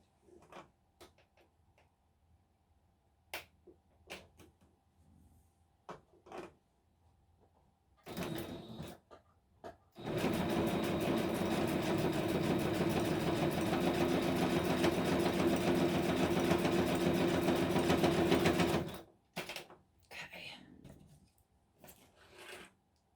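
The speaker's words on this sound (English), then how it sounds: "turn over to the sewing machine and I'll stitch it right here" A sewing machine stitching card stock for a craft project runs in one steady, loud burst of rapid stitching for about nine seconds, framed by scattered clicks and handling noises before and after.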